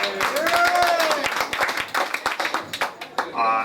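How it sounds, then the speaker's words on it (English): Crowd applause for Assemblyman Louis Sepulveda at a Bangladeshi American community 9/11 memorial gathering, a lively burst of clapping that thins toward the end, with a voice and a brief tone heard faintly beneath. "Let's give him another round of applause"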